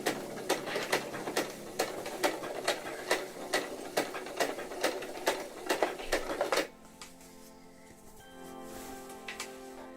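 An Uten 2685a sewing machine runs loud and near, with a fast, even mechanical clatter of repeated needle strokes that stops abruptly, then quieter, tonal motor whirring follows.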